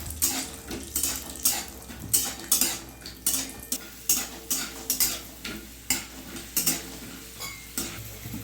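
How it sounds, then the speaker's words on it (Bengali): Peanuts are fried in hot mustard oil in a wok under a low sizzle, with a regular rhythm of scraping and stirring strokes about once per second, close and fairly quiet, with no talking. "তেল গরম হয়ে গেছে, বাদামটা ভেজে নেবো"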